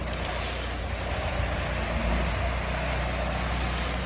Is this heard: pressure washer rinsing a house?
yes